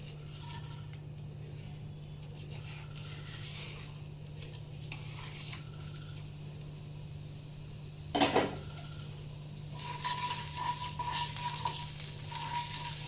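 Puffed rice dropped into hot oil as a tempering for masala paneer gives a soft, steady, low sizzle, with one brief utensil clatter midway and no talking.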